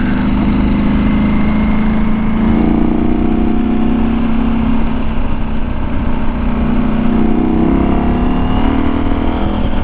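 KTM 790 Adventure R motorcycle with knobby tires riding on freshly laid gravel, its engine a loud steady drone with a rising pull as it accelerates, mixed with constant wind and tire rumble throughout.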